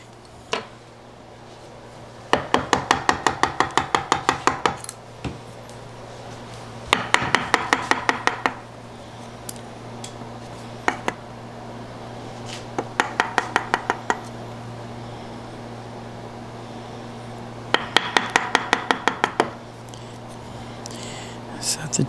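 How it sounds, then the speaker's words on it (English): A chisel chops out the waste wood of a dovetail joint in four separate bursts of rapid, sharp taps, with quiet gaps and a steady low hum between them. "And then I should be able to chop that off quite easily."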